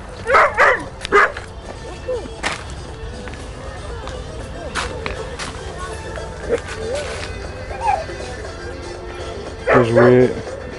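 Dogs bark and yip in short bursts, some close and loud, others fainter, amid outdoor rustling and background noise.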